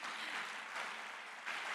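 A church congregation applauding during a Telugu sermon, a dense wash of many hands clapping together, fairly distant and soft, steady for under two seconds without speech.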